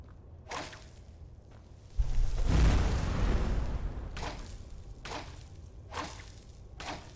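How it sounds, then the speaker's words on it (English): Explosion in Skyrim: a few sharp whooshing swipes, then a sudden deep blast that rumbles loudly and decays over several seconds before more quick swishes cut through. "It was an explosion."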